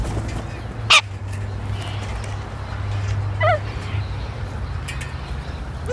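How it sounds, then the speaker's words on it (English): A wild bird, likely a crow, gives a single sharp caw early on, followed by a fainter call midway, both set against steady low background hum. "This is a wild bird."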